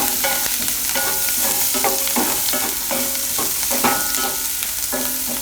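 Onion and poha are stirred and fried together in a pan for Gujarati dahi pava, with a loud, constant sizzle broken by rhythmic spoon scrapes and taps, close and without talk.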